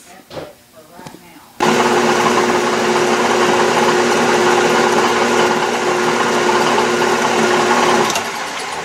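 A lathe spins steadily while a small steam engine piston is polished on it, a loud, continuous whirring hum that starts abruptly after a brief quiet moment and runs on nearly to the end.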